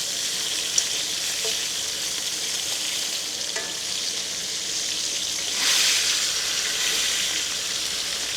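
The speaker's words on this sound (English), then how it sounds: "And then watch out for popping, because it's basically bacon grease." Bacon fries in its own grease for burgers, a steady, fairly quiet sizzle with occasional sharp pops and a brief louder surge of crackling partway through.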